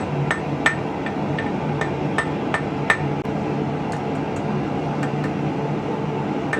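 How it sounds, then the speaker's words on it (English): A hammer forges a taper on a small hand-made fishing hook, ringing out in sharp metallic strikes at an irregular pace, with a couple of louder blows over a quiet steady background. "I'm just going to forge another taper."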